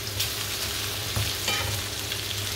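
Herbes de Provence stirred through a hot pan make a close, continuous sizzle and fry with soft scraping stirs breaking through now and then.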